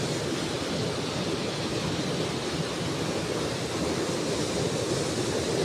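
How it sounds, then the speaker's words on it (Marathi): Heavy monsoon rain pours down with water rushing and flowing nearby, a steady, dense wash of noise that holds unchanged throughout with no voices. "पाणी बघा कसं वाहतंय."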